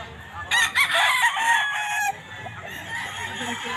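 A rooster crows nearby at a pet market in San Jose del Monte, Bulacan, Philippines, one loud call lasting a couple of seconds over quieter background chatter and rustling.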